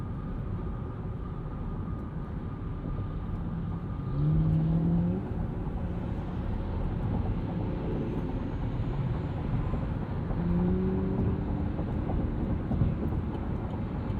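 Interior drive noise of a 2020 Chevy Bolt EV electric car accelerating, a steady broad road and wind rumble with faint rising whine tones swelling and fading over about fourteen seconds.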